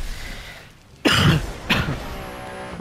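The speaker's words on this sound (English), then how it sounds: "I need to cough." A man coughs twice in sharp, loud bursts, with a steady engine and road hum from a driving game running underneath the whole time.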